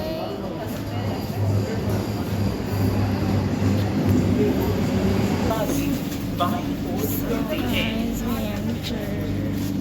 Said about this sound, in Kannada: ಆ ಟ್ರೈನ್ ಇಸ್ ಅರೈವಿಂಗ್